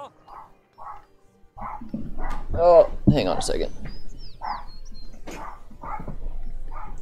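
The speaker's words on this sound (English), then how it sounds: "That would be my dog barking really loud." A dog barks in short, loud bursts, repeated several times alongside a person speaking and other background activity.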